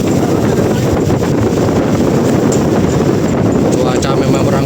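Strong wind roars across the deck of a coal barge at sea in bad weather as high waves wash aboard, a loud, steady blustery rush buffeting the microphone, with a voice faintly under it.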